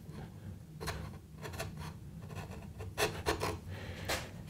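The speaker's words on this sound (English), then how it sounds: "I don't know why I'm still using my crankneck chisel." A crankneck chisel pares wood by hand while shaping the angled face of a tapered sliding dovetail, giving faint, quiet scraping and rasping strokes in short bursts, with no talking.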